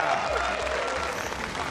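A Blizzard Arena crowd at a Hearthstone championship cheers and applauds in a continuous, loud wash of noise that holds steady for the whole brief moment.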